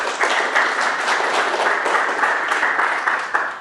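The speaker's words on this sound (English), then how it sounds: "Some applause for Leonard." A conference audience at a software community birthday event claps for a speaker, a steady, moderately loud wash of applause lasting a few seconds.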